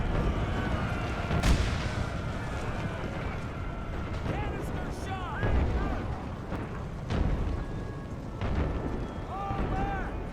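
Cannon fire booms in a Total War American Civil War battle, with several loud artillery blasts spaced a few seconds apart over a dense, continuous roar of gunfire and battle noise.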